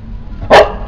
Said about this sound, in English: Here we have the guard dogs.